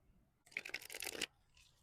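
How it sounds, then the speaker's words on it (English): A deck of cards is riffled once in a quick, crisp burst lasting under a second, close up in an otherwise quiet room. "Let's shuffle your deck"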